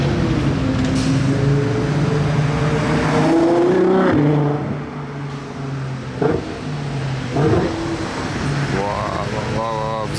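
Loud sports car engine revs and accelerates past with shifting pitch, then the sound drops to a steadier hum with a few short blips, while people talk over it.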